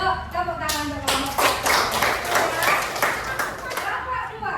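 A classroom of students claps for a student group, a dense burst of applause lasting several seconds with a few voices chattering underneath.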